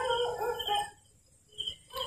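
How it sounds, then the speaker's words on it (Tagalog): A dog howls and barks outdoors at night in the Philippines, two or three drawn-out calls from a moderate distance with a quiet gap between them. "Pero tumataho ng aso doon."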